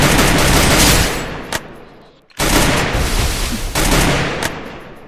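Sniper rifle gunfire in a video game: loud, dense blasts of noise roar for over a second, cut out briefly to near silence, then erupt again and continue with crackling intensity.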